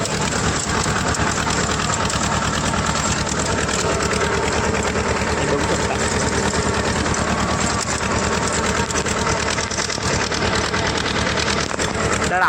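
Tractor pulling a rotavator through a field, a steady loud diesel drone with rapid mechanical chatter running unbroken throughout, close to the listener.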